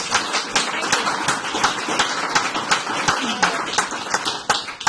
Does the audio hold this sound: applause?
yes